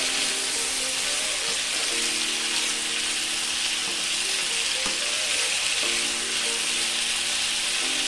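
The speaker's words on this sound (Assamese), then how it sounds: "এতিয়া মই ধুনীয়াকৈ লৰাই দিছোঁ।" Drumsticks and potatoes sizzle loudly and continuously in a frying pan while a spoon stirs them with occasional scraping strokes. The sound is near and unbroken, with no voices.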